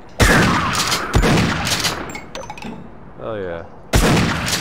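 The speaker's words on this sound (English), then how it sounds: "This shotgun is way better than the one we had in the base game" Shotgun blasts in Half-Life: Uplink, three loud sharp booms spaced a second or more apart with scattered game noise between, while a man exclaims over the shots.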